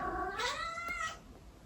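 A cat gives a single drawn-out, rising-and-falling meow, close and clear, with a bright wavering tone and no talking.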